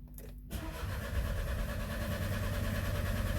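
Renault Trafic van engine cranking briefly after a short pause, then catching and settling into a loud, steady idle with a low, even rumble, close by with no talk.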